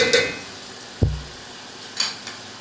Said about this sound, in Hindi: मटर डालकर थोड़ा सा हमने इनको फ्राई करना है।